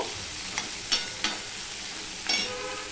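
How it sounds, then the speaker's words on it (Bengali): About 200 grams of onions frying in a little oil for chicken curry, a steady close hiss of sizzling with a few soft scrapes of a spoon stirring through the pan. "আমি এখানে পেঁয়াজ দিয়ে দিয়েছি 200 গ্রামের মতো। এবার এটা আমি ভালো করে ভেজে নেব।"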